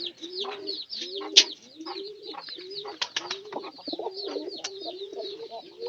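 A domestic pigeon in a nesting loft coos repeatedly in short, throaty phrases, fairly close and clear, with a brief sharp click partway through.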